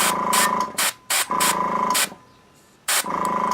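Airbrush spraying paint onto a miniature tank wheel, a close hiss in short repeated bursts of varying length separated by brief pauses, with no speech.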